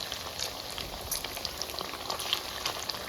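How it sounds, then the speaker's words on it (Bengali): Paneer pieces fry in a pan, giving a steady, dense sizzle and crackle with scattered popping, close and continuous throughout. "তো আমার পনিরের এক পিঠ ভাজা হয়ে গেছে এই দেখুন উল্টে দিচ্ছি"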